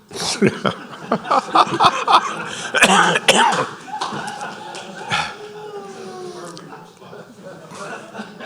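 Several sharp coughs break out amid lively talk and chuckling at a parish council meeting, close to the microphone, followed by continued speech.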